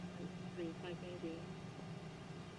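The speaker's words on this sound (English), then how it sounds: "Engine is cranking. There we go. That sounds good." An aircraft engine cranks and settles into a steady, faint low hum during taxi in Microsoft Flight Simulator 2024, with a voice talking over it.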